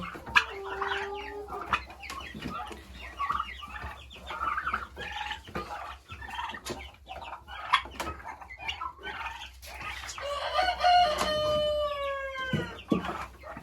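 Turkeys and young chicks cluck and peep close by in short scattered bursts, with a louder run of calls and a crow-like cry near the end, amid light rustling.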